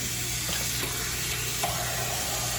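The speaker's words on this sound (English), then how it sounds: "When it's clean and it's working properly, when you run water through it" Water runs steadily through a clean filter screen during home maintenance, giving an even, close hiss with a few faint clicks and no talk.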